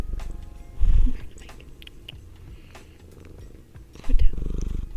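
Soft, low rumbling cat purr up close, swelling twice into louder rumbles with quieter stretches between.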